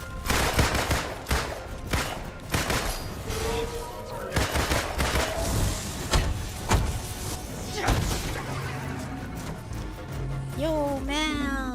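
Loud, dense video game gunfire aimed at a monster in Marvel's Avengers on PS5, with rapid bursts mixed with impacts and rising whooshing effects and a voice talking over the action.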